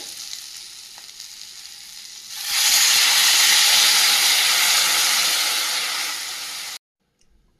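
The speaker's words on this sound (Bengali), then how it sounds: "সবজিটা ভালোভাবে কষানো হয়ে গেছে, এই পর্যায়ে জল দিয়ে দেবো।" Vegetables stir-fried with green chilli and whole cumin burst into a loud, close sizzle as water hits the hot pan. A quieter frying hiss comes before it, and the sound cuts off abruptly near the end.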